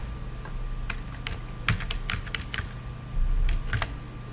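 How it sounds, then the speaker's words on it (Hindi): Computer keyboard typing while entering a date in an Excel invoice, a series of light, close, irregular key clicks with brief pauses between bursts. "ठीक है, डेट टाइप कर लें"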